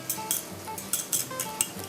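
A utensil stirring and beating eggs with cheese, salt and pepper inside a bowl, quick rhythmic scraping strokes with light clinks against the sides, close and steady.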